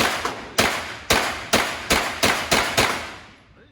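Gunshots at an outdoor shooting session, about seven sharp loud reports fired one after another at a steady pace, each followed by a short ringing decay, with no talk.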